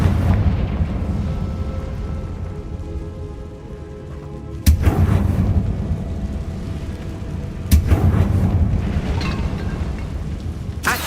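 Confringo fire spell exploding in a wizarding video game: two sudden, loud booming blasts a few seconds apart over a steady rumbling background, each followed by a crackling roar.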